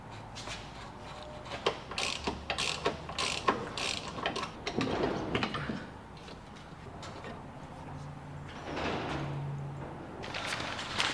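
Ratchet wrench undoing 19mm bolts on a Panhard bar under a VN Commodore with an LS2 conversion, heard as a close series of irregular clicking and creaking bursts with metallic clanks, no talk.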